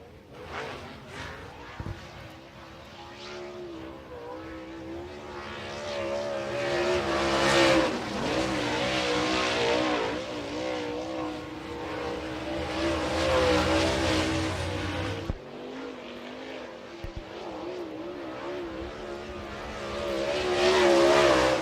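A MARS late model race car runs on the dirt track at Cedar County Raceway, its engine rising and falling in loud surges as it circles, heard from a distance over crowd ambience.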